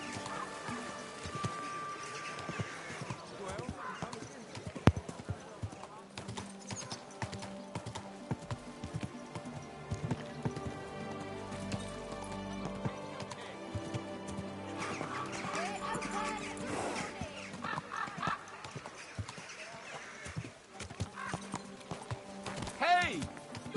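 Horse hooves clip-clop in Death Stranding under a musical score, with occasional talk and a faint neigh, moderately close and fairly quiet.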